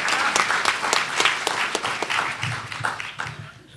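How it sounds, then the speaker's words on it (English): A political conference audience at a green-jobs panel gives a round of applause: dense, steady clapping that fades toward the end, with no talk over it. "we should give her another round of applause"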